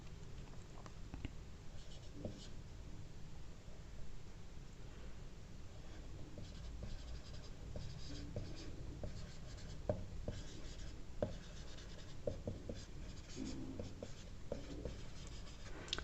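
A blue pen scratches steadily across paper while an answer is written on a class 10 science sample paper, a soft continuous scrawl with small taps, faint and close under low background hiss.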